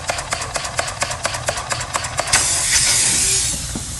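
A homemade steam engine puffs in a quick, regular rhythm of close, loud chuffs, then gives way to a continuous strong hiss of escaping steam.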